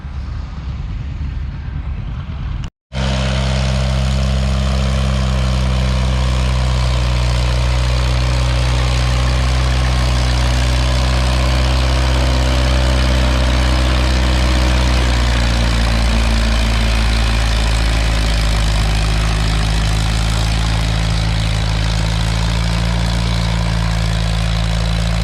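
A pulling tractor at the Lynden fall tractor pull holds a loud, steady engine drone with a deep low rumble, running close and unbroken after a brief gap near the start.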